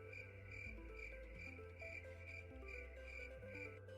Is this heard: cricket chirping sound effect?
yes